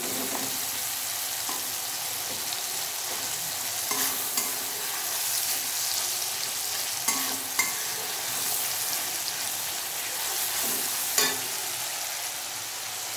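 Tomatoes fry over a lowered gas flame in a pan as a spoon stirs them, giving a steady soft sizzle broken by scraping strokes every second or two, close up with no talk.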